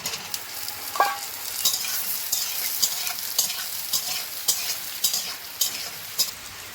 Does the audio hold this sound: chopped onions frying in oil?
yes